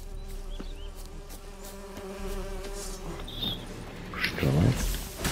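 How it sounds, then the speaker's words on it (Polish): Bees buzz in The Witcher 3: Hearts of Stone, played on PS5, a steady insect drone over forest game ambience, with other game sounds rising near the end. "Pszczołek."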